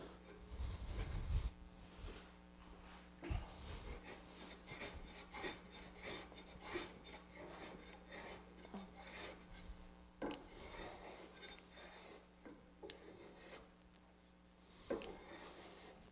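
A card scraper rasps across an end-grain wooden cutting board in repeated short strokes, close and fairly quiet, with a steady hum beneath and a few brief bumps of handling.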